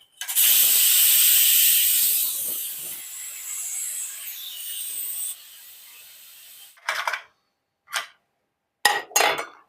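Steam hissing loudly from a pressure cooker after three whistles, used to boil fresh green corn, a long continuous rush that fades after a few seconds, followed by several short sharp bursts of hiss.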